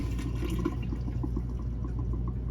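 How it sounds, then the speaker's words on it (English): A Thetford macerating toilet installed on a 46-foot Hatteras boat flushes, a steady close rush of water and motor churn running continuously without pause. "Yep, it flushed twice"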